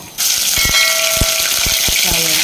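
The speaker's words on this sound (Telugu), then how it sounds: "జీలకర్ర వేసి అల్లం వెల్లి పేస్ట్ వేస్తున్నాను." Cumin seeds and ginger garlic paste hit hot oil for a chicken pickle, setting off an abrupt loud, steady hissing sizzle with a few brief clinks on top, close by and continuous.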